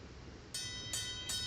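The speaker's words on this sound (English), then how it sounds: "And now if we ring the bell..." A bell in the point-and-click game Deponia rings three times as a blast signal, evenly spaced bright metallic strikes that ring out clearly over a quiet background.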